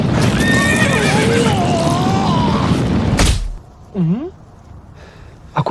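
A horse in an anime scene whinnies loudly over a dense, noisy background with hoofbeats, followed by a heavy thump, a quieter stretch, and a short falling whinny near the end.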